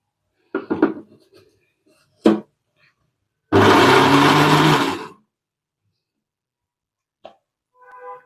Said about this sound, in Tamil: இப்போ அதே மிக்ஸி ஜாரில் நம்ம கத்திரிக்காய் அரைச்சி எடுத்துக்கலாம்.